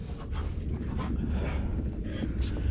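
Several dogs pant and whimper close by in a garage during an LS engine swap, a continuous breathy huffing with occasional whines over low rumbling background noise.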